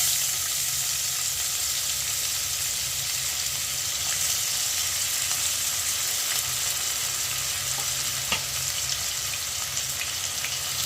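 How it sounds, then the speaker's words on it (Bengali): Onions fry in hot oil with garlic, giving a long, even, dense sizzle heard up close, with a few faint utensil taps scattered through and no speech. "পেঁয়াজগুলো এবার একটু লাল লাল করে ভেজে নেব।"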